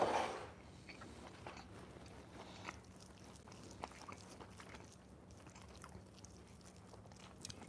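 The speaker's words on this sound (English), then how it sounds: "I'm just eating this pork chop with 0 condiments." Someone biting and chewing a thick, partly burnt pork chop eaten plain with some onions, with soft intermittent crunchy chews close up over a quiet background hum and no talking.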